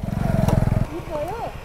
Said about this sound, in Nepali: टोटल भनेको 20वटा बाइक छ।